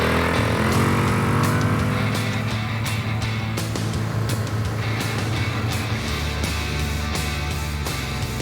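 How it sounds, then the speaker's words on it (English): A motorbike revs and pulls away on a sandy outback track in Australia, the engine loud and close at first with rising gear changes, then holding a steady drone as it rides off. "we've got to pull this bike off, ride 5k back to where we left the second trailer"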